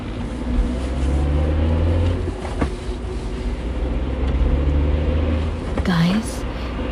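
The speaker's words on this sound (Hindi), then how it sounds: "गाड़ी स्टार्ट की और गाड़ी फुल स्पीड" A car starts and races at full speed as a sound effect in an animated Hindi horror story, heard as a loud, steady droning engine rumble throughout with a brief rising whoosh near the end.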